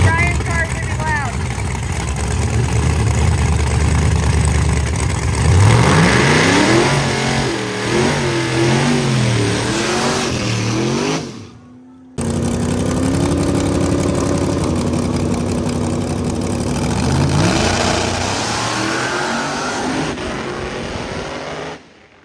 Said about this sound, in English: Plug your ears, Brian's car's gonna be loud.